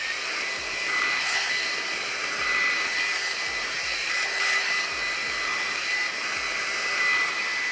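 A GHD Wet to Styled 2-in-1 hot air styler blows steadily, a loud continuous whooshing airflow with a high whine, with slight surges as it moves through hair; no talking.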